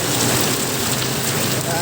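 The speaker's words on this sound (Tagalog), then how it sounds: "talagang super ulan na talaga. Walang humpay na pag-ulan." Heavy rain pours steadily in a dense, constant hiss, close and loud throughout.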